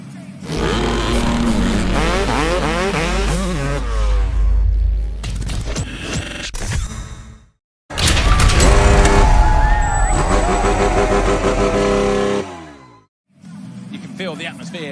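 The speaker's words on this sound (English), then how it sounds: "Riders fire up their engines as we prepare for SX1 race 2, the sprint race." Supercross motorcycles rev their engines on the start line of an SX1 sprint race in a Paris stadium, loud rising and falling revs and crackles from many bikes, cut by brief gaps, with crowd atmosphere.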